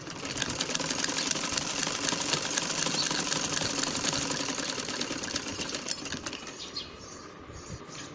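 A sewing machine runs continuously and close up, stitching the side seam of a kids' party-wear dress with a fast, even, rattling whir that slows slightly near the end; no one talks.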